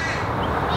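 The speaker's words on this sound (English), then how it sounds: "The birds are really going crazy out here. Can you hear them?" Crows caw outdoors beside a shed, their harsh calls dense and continuous, fairly loud and near for the whole short stretch, with no voices over them.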